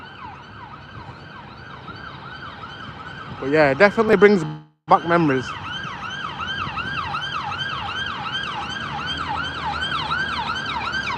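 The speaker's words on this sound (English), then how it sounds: "it's the ambulance I think." Wailing ambulance siren passing along a UK street, its rising and falling sweeps loud and continuous, briefly switching to a faster yelp before resuming, while someone talks over it.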